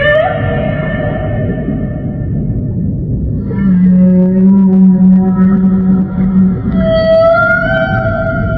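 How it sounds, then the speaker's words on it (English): Humpback whale vocalization: a loud, close sequence of moaning, rumbling calls that sweep into long sustained tones and higher rising whistles, heard alone without talk. "Humpback whale."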